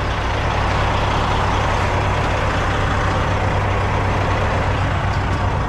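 Diesel semi truck running, a loud steady low engine rumble with broad constant noise, close by and with no talking.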